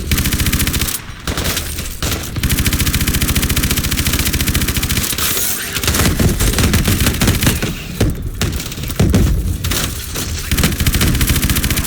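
Sustained heavy automatic main-gun fire in Call of Duty: Advanced Warfare, a loud, continuous roar of rapid shots with only brief breaks, steady and close throughout.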